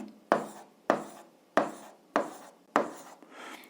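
Pen or pencil on paper while writing down a number: five short, distinct scratching strokes at a regular pace, each fading quickly, close and fairly quiet with no speech.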